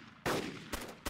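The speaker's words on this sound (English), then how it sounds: "Is that you shooting?" Gunshots in the DayZ Epoch video game near a C-130 crash site, three sharp reports, the first loudest with a lingering tail, the next two shorter, fairly close and quiet overall.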